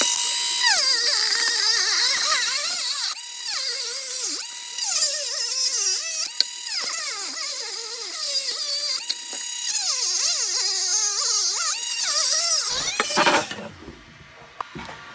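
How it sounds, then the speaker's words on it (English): A Dremel rotary tool cuts through the bed of an AMT Toyota model truck body, its high whine rising and dipping in pitch as it bites in short bursts, close and loud, before stopping near the end. "I'll cut that off with my Dremel"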